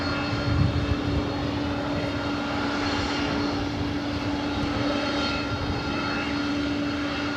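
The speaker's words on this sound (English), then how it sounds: "number 2 for arrival, Southwest Airlines flight 2679, coming in from Sacramento" Southwest Airlines Boeing 737-700 arriving at LAX from Sacramento, a loud, steady jet roar with a sustained engine whine held close by throughout.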